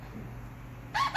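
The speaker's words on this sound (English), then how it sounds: "This is how my bird says mama when he wants to scream for his mom." A pet sun conure parrot lets out a sudden loud, shrill "mama"-like scream at the very end, following a quiet stretch of low room noise.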